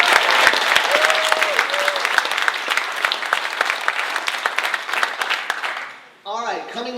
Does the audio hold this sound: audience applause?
yes